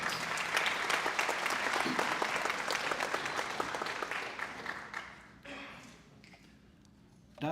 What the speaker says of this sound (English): Let's give one more round of applause for our award-winning graduates.